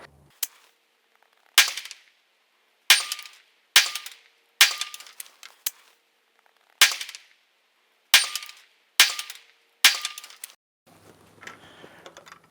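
Nine sharp pistol shots from an HK45 Tactical, loud and close, fired at uneven intervals with short ringing decays, followed by a brief stretch of low handling noise.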